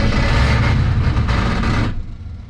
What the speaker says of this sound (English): Sounds like the starter's stuck on.